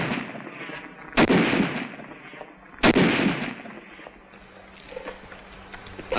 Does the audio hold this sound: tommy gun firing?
yes